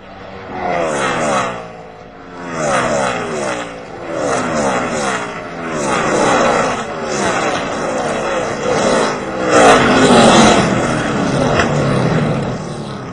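NASCAR stock cars roar past at race speed with a hard collision, loud engine tones sweeping up and down in repeated passes while someone talks over them.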